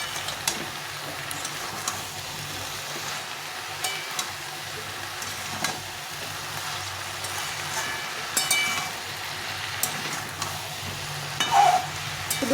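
Mixed vegetables for a Bengali labra curry, dusted with turmeric, are stirred in a frying pan. A low, steady sizzle runs throughout, with occasional soft scrapes and knocks from the spoon.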